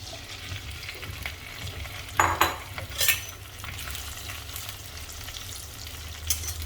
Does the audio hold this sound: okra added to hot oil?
yes